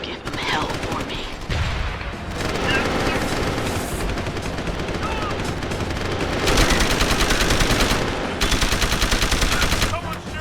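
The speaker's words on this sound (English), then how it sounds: "Someone's shooting!" Automatic gunfire rattles in rapid, sustained bursts in Deus Ex: Human Revolution, loud and close, with brief pauses between volleys.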